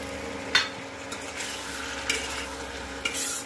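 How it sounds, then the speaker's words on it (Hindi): Tomatoes and peas frying in a pan, a soft continuous sizzle broken by three or four sharp spatula scrapes against the pan, close up. "ये हमारा टमाटर भी भुन रहा है तो अब हम डाल देंगे इसमें मटर।"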